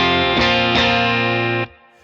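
Electric guitar played through a Victory VC35 The Copper amplifier with its mid boost engaged, a loud, sustained distorted chord with a couple of re-struck accents before it cuts off abruptly, leaving a faint ringing tail.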